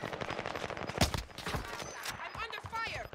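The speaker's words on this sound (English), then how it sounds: "I'm under fire." Rapid gunfire breaks out in the Warzone video game: sharp bursts and single shots at close range, with a loud crack near the middle. Players talk over the shooting through voice chat.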